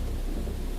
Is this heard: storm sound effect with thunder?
yes